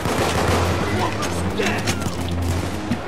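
Gunfire from the video game Payday 2 crackles in rapid mechanical bursts during an art gallery heist, fairly close and steady, with light talk faintly underneath.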